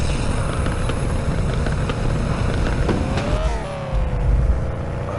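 A video-game car engine drones and revs continuously, the tone sliding as it accelerates and shifts, loud and steady throughout with no speech.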